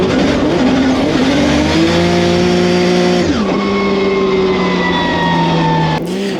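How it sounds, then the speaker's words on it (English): Drift competition car on a lap at a Poland event, engine held at high revs with a steady whining tone that dips and shifts, tires squealing throughout, loud and close. "I tried running fourth in this lap, which I think was a little bit too boggy for the motor"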